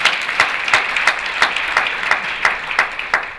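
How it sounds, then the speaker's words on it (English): Attendees at Brookline's 2013 Martin Luther King Jr. Day celebration clap in a steady, rhythmic unison beat, sharp regular claps rising over a bed of general applause, close and loud with no talking. "You can clap for them."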